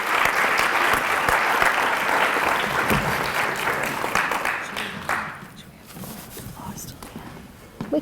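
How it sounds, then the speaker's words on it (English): Audience applause at an awards ceremony builds as a dense, steady wash of clapping, then thins after a few seconds into scattered claps and room murmur, with a voice speaking over the quieter tail. "Can we just ask you to hold the applause till the end"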